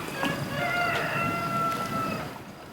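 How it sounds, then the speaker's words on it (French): A rooster crows at dawn on Kalymnos, Greece, giving one drawn-out, tonal call that rises and then falls. It sounds moderately distant against quiet outdoor background noise. "C'est littéralement se lever au chant du coq."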